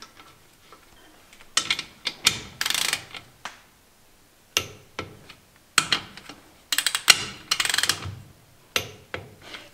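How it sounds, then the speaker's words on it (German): Ratcheting clicks of a torque wrench tightening engine bearing cap bolts on a crankcase block, in several bursts of rapid clicking separated by pauses, close and fairly loud with no talking. "Die alten Schrauben rein und dann mit einem Fügemoment von 20 Newtonmeter anziehen"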